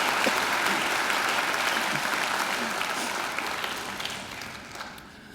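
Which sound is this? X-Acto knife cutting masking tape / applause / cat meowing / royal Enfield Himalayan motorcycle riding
applause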